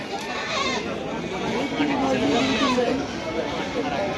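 Goats at a crowded rural goat market bleat amid a steady hubbub of people talking, the animal calls wavering and mid-loud, rising briefly through the middle of the stretch.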